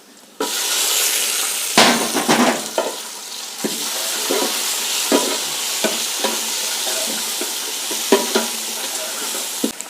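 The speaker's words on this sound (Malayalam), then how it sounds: "വെളുത്തുള്ളിയും ചെറിയ ഉള്ളിയൊക്കെ നന്നായിട്ടൊന്ന് വഴണ്ട് വന്നിട്ടുണ്ട്" Garlic and shallots sizzle steadily in a hot pan, a continuous bright frying hiss broken by scraping stirs and light clinks of a spoon.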